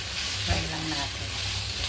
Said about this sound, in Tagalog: So, fry naman natin itong ham.